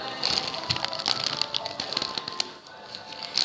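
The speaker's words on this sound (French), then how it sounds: "Mais là, il pleut et" Rain patters densely and unevenly on a surface close by, a crackly stream of tiny taps and drips with a faint bright hiss throughout.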